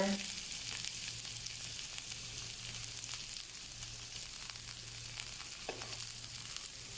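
Garlic and onions frying together in a pan for a peanut oxtail and tripe stew, a steady close-up sizzle and crackle running throughout with a faint low hum underneath.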